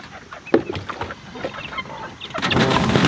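Chickens clucking at close range on a farm, a few short irregular clucks and squawks over about three seconds, with a rustling scuffle at the end.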